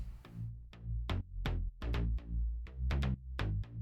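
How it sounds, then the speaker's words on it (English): A synth sub bass alone, deep sustained low notes that pulse and duck rhythmically with short plucked attacks on top, loud and steady with no voices. "To give an idea of what the sub bass sounds like on its own, it sounds like this."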